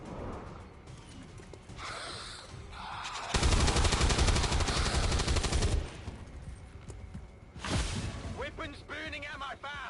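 Rapid automatic gunfire in XCOM 2 erupts in a loud dense burst lasting a couple of seconds, amid a battle soundscape with voices talking before and after.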